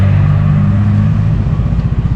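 A 2024 Suzuki Smash 115 FI motorcycle engine revs loudly and close, a deep steady rumble that holds for about two seconds before wavering slightly at the end.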